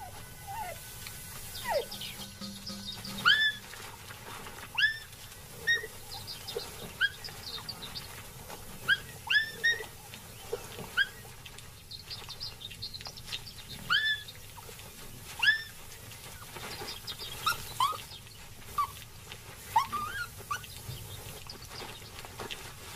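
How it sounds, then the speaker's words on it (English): Three jackal pups at a den whimper and yip in short, high, rising cries that come in scattered bursts over a low, steady background. "The jackal has a den nearby, with her own young to care for."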